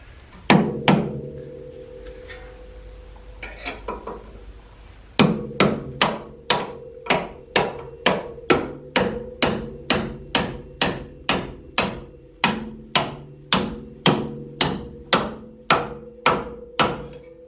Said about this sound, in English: So I'm just using a punch and a hammer.